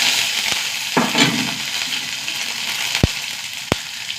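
Mustard seeds, dried chillies and small onions fry in hot oil, a loud, steady sizzle with bursts of crackling and a few sharp pops from the seeds spattering, close up and alone.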